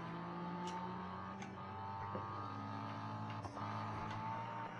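A car engine in Need for Speed Heat holding a steady high-revving drone with faint gear-like shifts, fairly quiet and continuous throughout.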